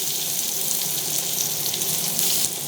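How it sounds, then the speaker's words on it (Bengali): Tomatoes and onions fry in a pan, making a steady, bright, hissing sizzle at close range with no pauses and no talking. "টমেটো আর পেঁয়াজ ভাজা হচ্ছে"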